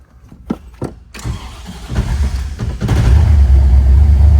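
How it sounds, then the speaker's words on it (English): A 1965 Corvette convertible with a 327 V8 and five-speed manual is started up: a few brief clicks and cranking bursts, then the engine catches and settles into a loud, steady rumbling idle up close. "Put my clutch in here, and let's start it."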